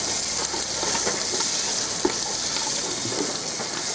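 Celery leaves and seafood fry steadily in cannabis-infused olive oil for a chowder, giving a close, continuous sizzle with a few soft stirring knocks and no talking.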